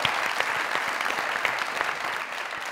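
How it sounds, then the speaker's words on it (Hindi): A studio audience at a comedy talk show breaks into steady, fairly close applause, with individual claps audible in the dense wash for nearly three seconds before it begins to thin. "फायजा जी की तालियां।"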